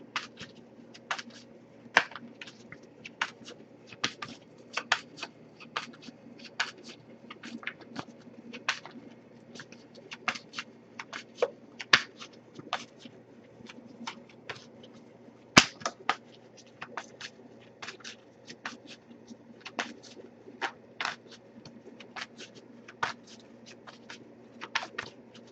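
Tarot cards being shuffled and flicked up close, a long run of crisp snaps and rapid riffles at an uneven rhythm, with no one talking.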